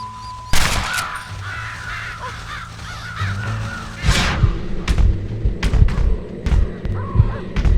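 Crows caw repeatedly in the video game Red Dead Redemption, several harsh calls over an outdoor ambience, followed by heavier thumps and rustling toward the end.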